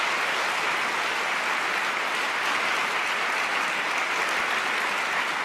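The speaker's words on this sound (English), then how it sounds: "So why are they clapping?" Steady, dense applause from a large conference audience at a security summit, sustained and even throughout with no pauses.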